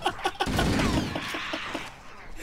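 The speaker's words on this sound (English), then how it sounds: "I'm just gonna shoot all the ammo." Rapid bursts of pistol fire from the Halo game, a dense run of repeated shots lasting over a second, loud and close, followed by a few scattered clicks and mechanical sounds.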